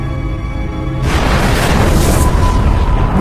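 A deep, loud boom standing in for a star exploding as a supernova bursts in after a second of low rumble, then holds as a broad roaring wash to the end.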